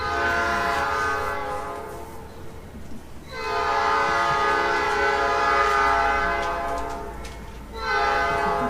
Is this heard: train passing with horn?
yes